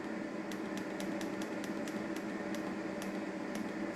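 A Ninja Speedi air fryer cooking seasoned chicken wings and green beans on air crisp at 390, giving a steady, even fan-and-heater hum with faint regular ticking clicks running throughout, close by and unbroken.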